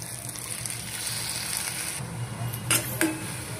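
Masala paste hits frying onions in a pan while cooking Kabuli chana chole, giving a steady low sizzle with a few sharp clinks of a utensil against the pan near the end.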